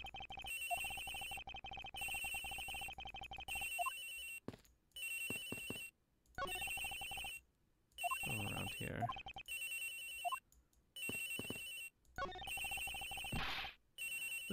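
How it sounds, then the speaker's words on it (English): Cell phone ringing inside a locker in the video game Ace Attorney Investigations, a steady electronic ringtone repeating in bursts with short gaps, loud and close, with no talking. "This has got to be the victim's cell phone."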